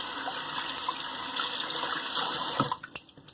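A GEM Micromatic safety razor fitted with a stainless steel GEM blade being rinsed under a running tap, a steady close gush of water that stops near the end, followed by a few light taps.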